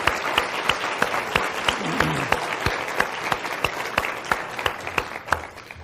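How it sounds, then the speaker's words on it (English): Steady audience applause with many sharp claps blending into a dense, continuous patter, fairly close and even in loudness throughout. "please join me in a round of applause for our keynote speaker."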